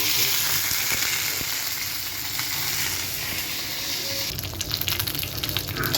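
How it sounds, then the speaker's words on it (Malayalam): Mustard seeds and curry leaves fry in hot oil in a pan, a loud continuous sizzle and crackle that grows busier with sharp pops near the end, with no voices. "പൊട്ടിയിട്ട് കുറച്ച് കറിവേപ്പില ഇടും"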